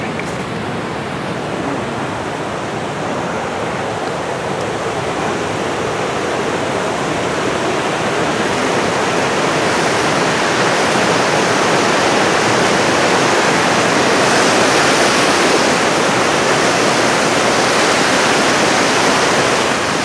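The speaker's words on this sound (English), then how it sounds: "It's Niagara Falls, New York on the other side." The Niagara River rushes near Niagara Falls in Ontario, a loud, steady, broadband roar of fast-moving water that holds constant and close throughout, with no voices.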